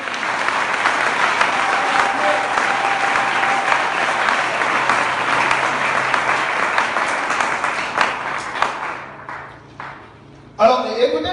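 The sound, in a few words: congregation applauding to acclaim the Lord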